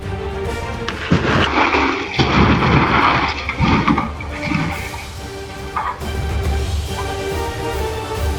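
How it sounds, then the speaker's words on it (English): Loud rumbling booms and crackling blasts roll over a dense, continuous roar, like a large explosion with debris. "don't forget the spectacular explosion waiting at the finish line"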